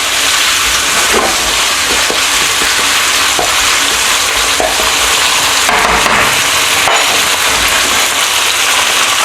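Sweet and sour pork sauce bubbles loudly in a hot pan for Thai sweet and sour pork, a constant close hiss and sizzle with occasional scraping stirs and clinks and no voice.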